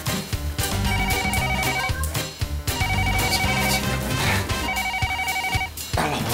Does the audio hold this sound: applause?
no